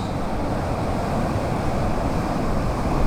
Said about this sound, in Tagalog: ang lakas na hampas ng alon dito sa may baba ng Patapat Bridge